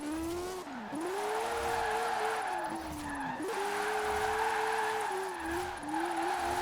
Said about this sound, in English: There's no like smooth way to drift this thing.